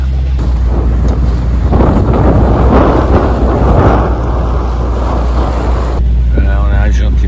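Sailboat running under engine at sea from Guadeloupe toward Marie-Galante, a steady low motor drone mixed with loud wind buffeting and water rush throughout, with a brief higher whine near the end.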